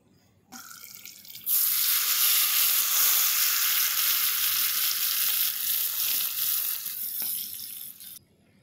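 Dal poured into a hot tadka of Kashmiri red chilies erupts into a loud, steady sizzle with a watery hiss, holding strong for several seconds before cutting off; no talking.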